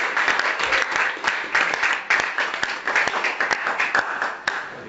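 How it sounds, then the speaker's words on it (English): Audience clapping in a live-streamed broadcast, a steady patter of many hands lasting several seconds, fairly close and continuous, with a few louder individual claps standing out. "I was thinking there would be a clap for that."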